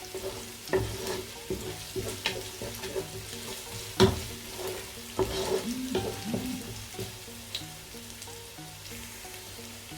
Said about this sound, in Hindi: ये प्याज तकरीबन ब्राउन हो गया है। इसमें मैंने अभी अदरक और लहसुन डाला है। इसको भी थोड़ी देर 1-2 मिनट पकाना है।